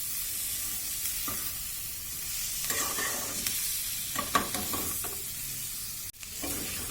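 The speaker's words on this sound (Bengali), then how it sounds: "ক্যাপসিকামটাও একটু নরম নরম হওয়া অবধি আমরা নাড়াচাড়া করে নিলাম" Capsicum stir-fried for chicken fry in a nearly dry pan, a continuous low sizzle broken by scraping spatula strokes and one sharp clatter near the end.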